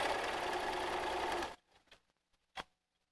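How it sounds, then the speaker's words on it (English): A home sewing machine stitches a diagonal line across a quilt border corner, a steady close whirring run for about a second and a half that stops abruptly, leaving a few faint taps and clicks. "Sew along that same diagonal line from the inside corner mark to the outside"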